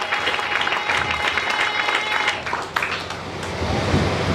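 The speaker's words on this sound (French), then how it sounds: "Acclamons très fort." A church congregation bursts into sustained applause and cheering during a French-language sermon, a loud, dense wash of clapping and voices that softens briefly before swelling again.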